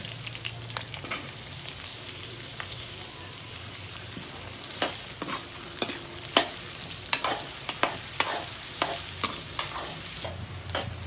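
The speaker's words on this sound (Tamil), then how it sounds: "நல்லா வெங்காயம் ரெட்டாக வர வரையும் வதங்கணும்" Onions sauté in a pan with a constant sizzle, while a spoon stirs and scrapes against the metal in a run of sharp, repeated clinks that grow busier toward the end.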